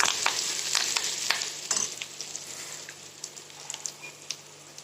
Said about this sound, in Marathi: कांदा वगैरे छान भाजलाय